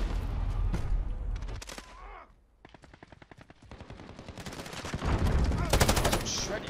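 Rapid automatic gunfire bursts in Call of Duty: Modern Warfare multiplayer Hardpoint on the Khandor Hideout map, loud and close, with repeated volleys of shots, a brief lull midway, then dense overlapping fire toward the end.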